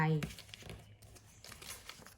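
Paper is folded up and down and crinkled for a children's craft, making short close rustles and crackles while someone talks quietly.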